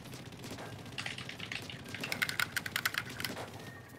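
Game controller buttons are pressed during a Splatoon Splatfest session, making rapid, close plastic clacks in quick irregular bursts against a low game and room background.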